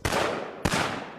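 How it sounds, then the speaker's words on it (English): Two loud, sharp gunshot cracks at JFK's motorcade, each followed by a short reverberant tail, sounding close together in an open outdoor plaza with no voices present. "a crack of gunfire pierces the air"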